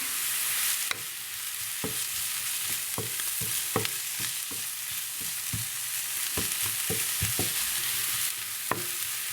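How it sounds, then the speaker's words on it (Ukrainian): Continuous sizzling from mushrooms frying in a pan over medium heat, punctuated by irregular scrapes and clicks of stirring, close by with no voices. "смажу на середньому вогні до появи такої піджаристої скоринки."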